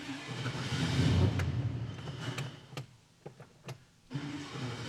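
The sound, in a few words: small block Chevy engine starting with new carburetor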